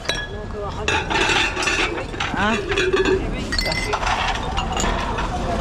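Discarded plates and dishes at a dump clink and knock together as they are picked through and handled, with repeated bright ceramic chinks under casual talk and exclamations.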